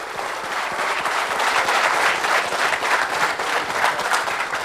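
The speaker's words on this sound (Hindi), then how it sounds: "इन सभी लोगों के लिए एक बार जोरदार तालियां हो जाए" A crowd at a motivational talk breaks into loud, sustained clapping, a thick rapid patter of many hands that swells slightly midway and holds steady without speech.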